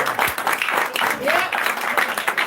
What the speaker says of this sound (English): big round of applause for each one of you.